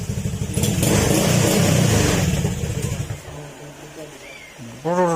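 A motorcycle engine runs in a repair shop, a loud rapid chugging idle that drops to a quieter, steadier putter, with a voice briefly heard near the end.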